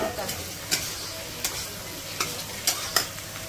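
Food frying in a pan being stirred, with a steady low sizzle and several sharp scraping strokes of a spoon spaced about evenly apart.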